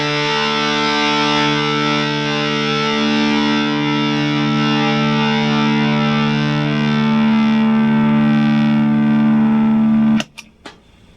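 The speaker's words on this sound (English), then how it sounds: "I'm using my Pigtronics Germanium Gold Micro compressor overdrive." Electric guitar through a Pigtronics Germanium Gold Micro compressor overdrive pedal, a single thick, compressed, distorted chord sustained steadily for about ten seconds, then abruptly muted with a couple of faint clicks, loud and close.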